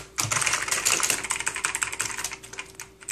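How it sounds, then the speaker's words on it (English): Fast typing on a Rosewill RK-6000 mechanical gaming keyboard, a dense, close run of sharp clicky keystrokes lasting a few seconds with no talk. "And here's the typing test."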